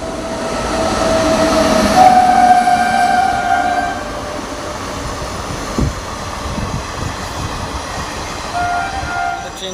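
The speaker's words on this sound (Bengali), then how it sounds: "আস্তে আমাদের এখন ট্রেন জার্নি শুরু হবে তো ট্রেনটা ছাড়ুক" Loud, continuous rumbling of a Howrah–Bardhaman local train on the Masagram–Barddhaman route as it starts moving. A sustained horn-like tone sounds early, and another brief tone comes near the end.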